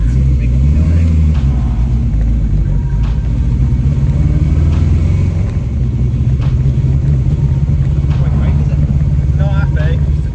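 A small car engine idles with a low, rough, uneven rumble, steady and close, with faint background noises.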